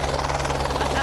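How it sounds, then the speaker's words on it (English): A helicopter coming in to land at a helipad fills the moment with a loud, continuous rotor roar, and voices are mixed in beneath the noise. "it's gotten a little loud here because the chopper's coming in"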